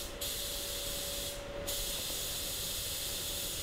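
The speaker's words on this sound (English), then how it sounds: "that's his air blower. It's some sort of an undercoating gun or something like that." A compressed-air blower or undercoating spray gun hisses steadily and loudly inside an auto paint booth, a continuous broad spray with two brief dips in intensity.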